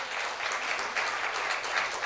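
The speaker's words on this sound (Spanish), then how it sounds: "Un aplauso al Señor." A church congregation breaks into applause during a Spanish-language sermon, a dense, steady wash of clapping that fills the whole two seconds with no voice over it.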